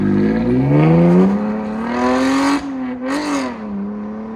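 A 2024 Chevy Camaro RS with a 3.6L V6 and six-speed, fitted with a Flowmaster Super 10 muffler and MBRP straight pipes, revs up loud and close, the engine note climbing through a long pull, dipping briefly, then surging again.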